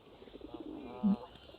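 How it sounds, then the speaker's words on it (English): A pigeon in a park gives a single short, soft coo over quiet background ambience. "This pigeon is just looking at me like, what am I up to?"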